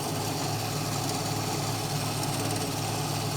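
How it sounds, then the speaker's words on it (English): Gryphon band saw motor running in a knife-making workshop: a steady, loud mechanical hum and drone that holds constant throughout, with no pauses. "It actually bogs down the motor a little bit, so you have to be more patient."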